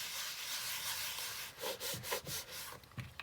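A book being rubbed by hand onto an inked gelli printing plate, giving soft, close dry rubbing and brushing strokes that start as a faint hiss and turn into several short, uneven scrapes.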